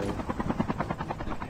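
Helicopter in a video game, a steady rotor thump beating in a fast, even rhythm, loud and close throughout with no talk over it.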